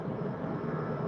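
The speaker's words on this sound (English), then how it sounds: "the planes going up overhead" Airplane passing overhead outdoors, a steady broad engine roar that holds at a moderate level throughout, with no talking.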